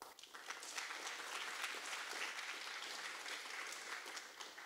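A ceremony audience at the H. Lavity Stoutt Community College 30th Anniversary Founding Day gives a steady round of applause, a dense, even wash of many hands clapping that holds for several seconds without voices.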